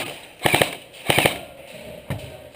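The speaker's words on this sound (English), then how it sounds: "that's a gun working" Airsoft guns fire on an outdoor airsoft field in two quick bursts of rapid snapping shots followed by a single later shot, fairly close and sharp against quiet background.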